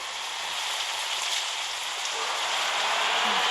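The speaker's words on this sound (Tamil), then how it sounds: "இங்கிலீஷ் மழை வேறு வந்துருச்சு" Rain pours down in a bus simulator game, a steady dense hiss of drops on surfaces that holds at an even level throughout, with no talk over it.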